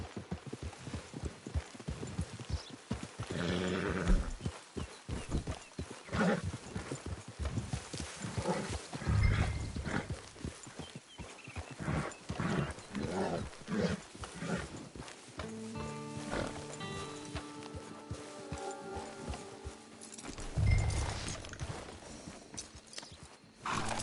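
Horse hooves clip-clopping at a steady walk to trot in Red Dead Redemption 2, a game score and ambient sound playing underneath, with an occasional whinny.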